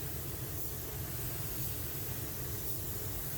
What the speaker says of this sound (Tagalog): Yan i-spray na natin.